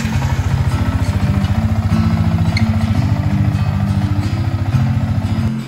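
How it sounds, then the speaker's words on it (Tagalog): A motorcycle engine idling steadily after a fresh oil change with Shell Advance Ultra fully synthetic oil, a close, even, rapid putter running continuously with no talk. "pandarin natin ang motor up to 5 minutes para mag-circulate ang oil sa makina"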